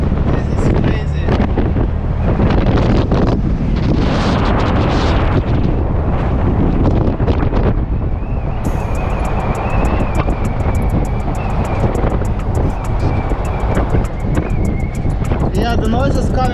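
Loud, roaring wind buffeting around the roof rack of a 2012 Toyota FJ Cruiser TT while driving, a continuous heavy rush of air with a whistling tone in the later part, very close to the microphone.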